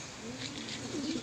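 Checkered racing pigeons in a loft, some of them sick with one-eye cold, coo softly and continuously, low rolling calls close by that swell slightly near the end.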